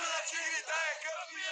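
Santos football fans cheer and chant after a win over Palmeiras, a dense roaring crowd of voices in a sustained chorus, heard from a distance and slightly muffled.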